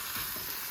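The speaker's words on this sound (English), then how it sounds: "Okay, so those sausages are getting put in there. Yeah, so we just stir these in" Sausages sizzle loudly in a pan alongside meat, rice and vegetables, a dense, even hiss lasting under a second.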